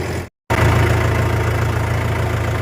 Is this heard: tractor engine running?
yes